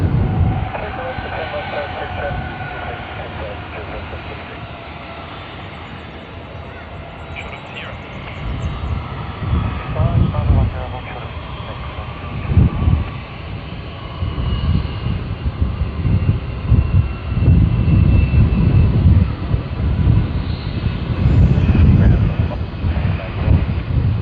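An Air New Zealand airliner bound for Queenstown roars at Sydney Airport, its engine rumble swelling loud and heavy under wind buffeting, with a voice talking over it.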